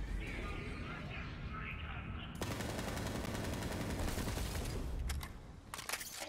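Automatic gunfire in Borderlands rattles loud and continuous for several seconds, then breaks into scattered shots, with a voice talking over it.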